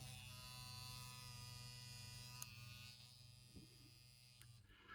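Battery-powered Gillette Labs razor running with a steady electric buzz and hum, close and continuous throughout, with a slight dip in level partway through.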